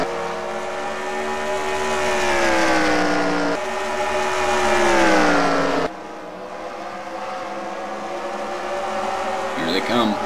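Race cars in a Gander Mountain Cup Series race approach on the track, with engine notes rising and falling as they pass close by, under commentary.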